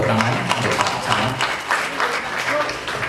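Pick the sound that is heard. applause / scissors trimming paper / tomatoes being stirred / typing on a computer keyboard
applause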